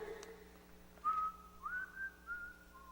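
A person whistles a few sustained, sliding notes in short phrases, fairly clear against a quiet background hum.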